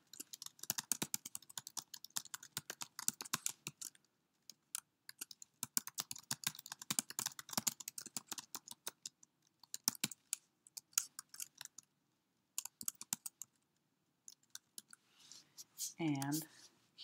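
Quick bursts of typing on a computer keyboard while writing an annotation, close and clicky, coming in short runs separated by pauses, with a brief voice near the end.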